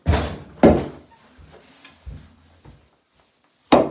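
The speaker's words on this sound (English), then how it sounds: "They gotta lock the bathroom door." A bathroom door in a house bangs sharply a few times, with loud close thuds at the start, in the middle and at the end, and a few softer knocks and rattles in between.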